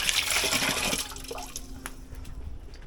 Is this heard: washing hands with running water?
yes